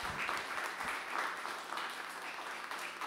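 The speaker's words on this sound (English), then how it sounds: "A round of applause for them." An audience at a business panel claps steadily throughout, a faint, even wash of applause with no voices over it.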